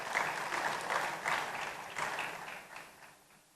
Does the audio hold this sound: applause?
yes